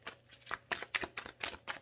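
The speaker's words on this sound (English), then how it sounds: "I'm going to keep shuffling because we had a lot flipped down." Tarot cards are shuffled in quick, soft riffling bursts, about six short flicks in a steady rhythm, quiet and close with nothing else heard.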